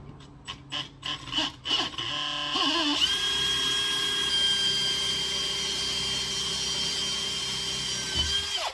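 A few short bursts from an electric drill, then a sustained high whine as it bores steadily through material before stopping, drilling a hole during a VW Beetle Baja front end teardown.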